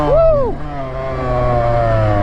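A Yamaha YZ dirt bike engine revs loudly up close at a muddy side-by-side event, pitch sweeping up and dropping in a quick burst before settling into a steady drone.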